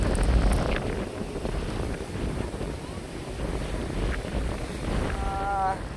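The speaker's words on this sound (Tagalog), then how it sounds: "Ayan o, mahangin." Strong wind blows across a river after a typhoon, rumbling and buffeting the microphone in steady gusts, with a rushing wash of water underneath.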